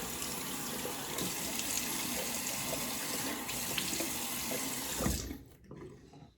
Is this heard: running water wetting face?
yes